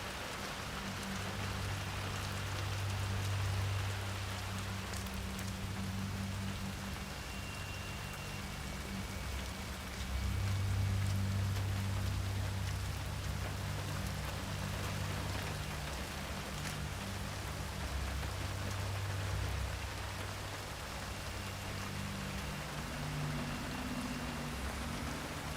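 Steady rainfall in the video game Hitman 3, a continuous hiss of drops on surfaces with a low rumbling bed, constant and fairly loud throughout with no voices.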